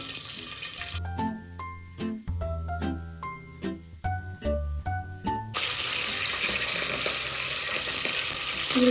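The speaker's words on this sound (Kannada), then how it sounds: "ಇದನ್ನು ಕೂಡ ಒಗ್ಗರಣೆ ಹಾಕತ್ತಿದ್ದಾನೆ" Metallic clinks and taps ring out in a quick series, then a loud, steady sizzle of tempering spices hitting hot oil takes over and continues.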